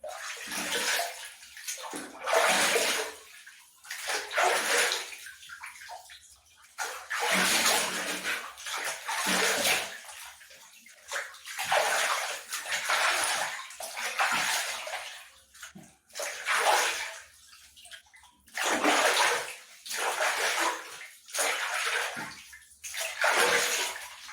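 Water rinsing off a body in a filled bath during a bath ritual, sloshing and splashing in repeated bursts with short pauses, close and moderately loud, with no talking.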